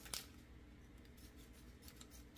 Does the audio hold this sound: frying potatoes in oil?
no